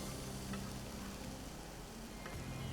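A cabbage bread sandwich frying in a pan, a steady low sizzle with a couple of faint scraping touches, close and fairly quiet, no speech.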